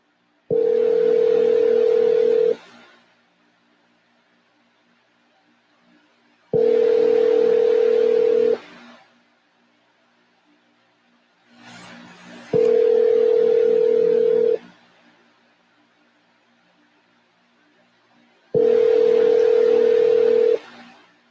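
Outbound cold call to a phone: four evenly spaced ringback tones, each about two seconds long with silent gaps of roughly four seconds between them, clear and alone.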